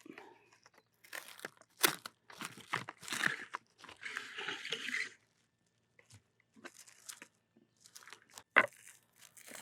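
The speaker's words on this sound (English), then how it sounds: "We're gonna lay out our plastic wrap." Plastic wrap for a smoked breakfast fatty is pulled from the roll and laid out, giving bursts of crinkling and tearing rustle with a few sharp snaps, close and fairly loud, separated by quiet gaps.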